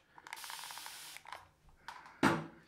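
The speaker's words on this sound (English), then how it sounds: "So as usual, I'm going to spray straight into the brush." Tabac shaving cream sprayed from an aerosol can straight into a shaving brush gives a close hissing burst, then a mechanical clicking and shorter hisses, ending in a sharper, louder spray.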